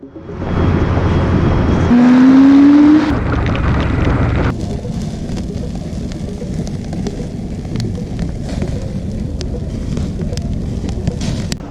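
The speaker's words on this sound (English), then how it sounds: "Here for the first ride with Great Shadow behind me on his brand new spanking 2019 Triumph Street Wind." Motorcycles, including a new 2019 Triumph, ride together on a crowded bike outing, giving a loud, continuous roar of engines and wind. A brief rising engine whine comes early, then the rumble stays steady.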